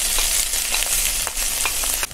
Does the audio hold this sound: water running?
no